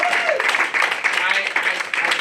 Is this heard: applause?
yes